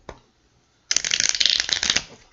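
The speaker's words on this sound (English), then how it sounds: "I think we have about 3 more shuffles." A deck of tarot cards riffles and flutters in a quick, close burst after a brief pause, crisp papery snapping lasting about a second and a half.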